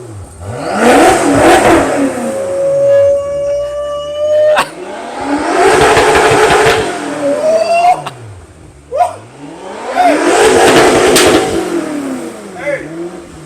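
A 2014 BMW M6 F13 coupe with a new full exhaust and its valve open revs hard three times, each loud, close blast rising and falling back to idle between bursts.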